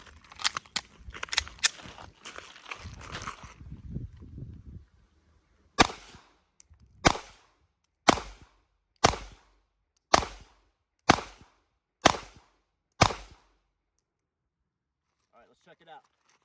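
A Smith & Wesson M&P M2.0 Compact optics-ready pistol fires eight evenly spaced, loud, sharp shots at paper targets about 7 yards downrange, roughly one per second, following a few seconds of rustling and handling noise.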